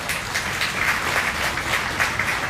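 Steady applause from an audience at an FFA livestock awards show at a state fair, with dense continuous clapping throughout.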